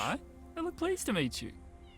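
Cats meow in a cat shelter in the video game Copycat, a series of short, close, clear meows in quick succession with pauses between them.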